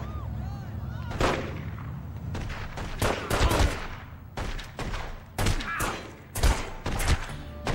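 Gunfire in The Godfather video game: loud, close bursts of shots fired in repeated volleys with short pauses between them, several rapid clusters spread across the stretch.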